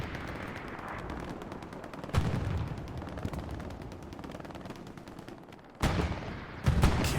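Rapid machine gun bursts crackle through a Hell Let Loose match on the Purple Heart Lane map, a dense steady stream of gunfire with sharper, louder volleys breaking through near the end.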